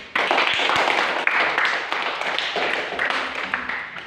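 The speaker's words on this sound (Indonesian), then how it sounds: "Tepuk tangan dulu." A classroom of children claps together during a lesson, a brisk, lively burst of many small hands clapping, close and fairly loud, continuing throughout with scattered sharper claps and no talking.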